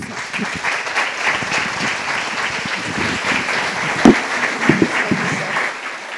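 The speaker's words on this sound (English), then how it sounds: "Let's give him one more round of applause." A gala audience at Wingate University's Blue Carpet Gala claps in a steady, full round of applause that fills the room, with a few louder claps near the end and faint voices mixed in.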